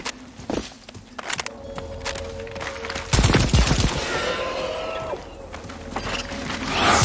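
Gunfire and combat noise from the co-op shooter video game Second Extinction, with dinosaur-like lizard enemies, loud sustained bursts mixed with footsteps and a whining tone, rising near the end.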